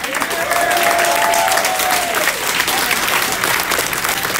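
Concert crowd at a live show at Ace of Cups in Columbus, Ohio, cheering and applauding loudly and continuously, a dense wash of clapping and shouts filling the room.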